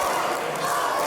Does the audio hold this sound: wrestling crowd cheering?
yes